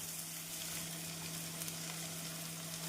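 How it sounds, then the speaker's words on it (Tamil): Steady, dense sizzling of onions and capsicum frying in a pan, a constant crackling hiss with no voices. "நாம் வெங்காயம் வதங்கும் போதே குடைமிளகாய் வெங்காயத்திற்கு தேவையான தூள் உப்பை சேர்த்து விடலாம்"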